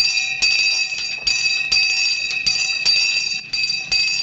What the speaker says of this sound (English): That's the bath bell.